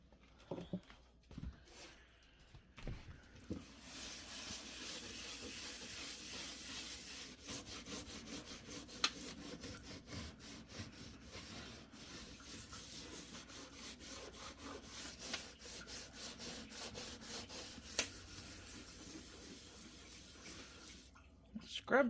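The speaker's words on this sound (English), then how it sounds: "Scrub pad is getting more off." Scrub pad rubbing over baking soda sprinkled inside a dirty oven, a fast rhythmic scratching that runs almost continuously, close and moderately loud, with brief pauses near the start and end.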